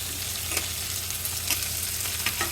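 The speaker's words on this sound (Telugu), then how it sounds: "ఇలా ఇవి వేసాక కొంచెం వేగాలండి" Onions and other ingredients fry in hot oil in a pan for a spinach and tomato curry, giving a continuous close sizzle with a few soft stirring scrapes and pops.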